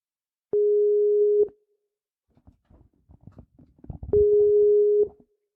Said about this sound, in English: Answer the phone, Go Fish Dan.